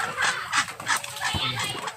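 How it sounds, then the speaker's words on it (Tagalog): Several ducks quack and cluck in short bursts outdoors in the countryside, a lively farmyard flock calling over a steady background. "may mga pato dito oh"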